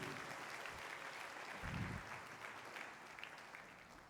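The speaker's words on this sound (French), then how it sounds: "Applaudis très bien pour le Seigneur Jésus-Christ." A church congregation applauding during a Sunday service, steady crowd clapping sustained throughout at moderate distance, with a brief low thump partway through.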